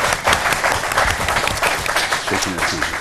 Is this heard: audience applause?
yes